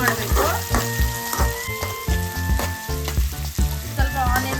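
Onion sizzles in heated oil for egg rice, a constant crackling hiss with light stirring, partly covered by prominent rhythmic background music.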